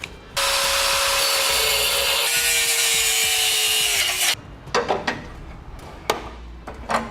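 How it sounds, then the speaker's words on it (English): A cutoff wheel grinds through the steel of a 2017 Chevrolet Equinox front end during a Blue Ox base plate install, a loud, steady, high-pitched whine for about four seconds, then stops, leaving scattered clanks and light handling noises. "For this, we're going to use a cutoff wheel."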